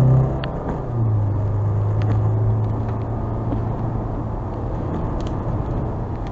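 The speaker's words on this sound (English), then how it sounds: "I hear the wind." Strong wind roaring during a Houston tornado and derecho storm, a steady heavy rumble with a low engine-like hum from a car, continuous and loud throughout.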